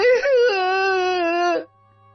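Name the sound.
woman crying on the phone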